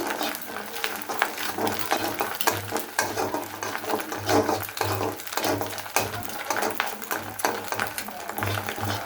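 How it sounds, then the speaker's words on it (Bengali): Egg frying and being stirred in a pan for a winter vegetable dish: a steady sizzle runs throughout, with repeated scraping and clinking of a utensil against the pan, close and continuous. "ডিমটা আমি ভালোভাবে ভেজে নিচ্ছি।"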